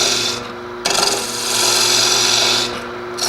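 Lathe tool cutting away waste wood on a wood lathe, down to a faceplate's diameter on a tulip-shaped vessel: a loud, continuous broadband rasping scrape with brief dips where the tool lifts off, close and steady, no talk.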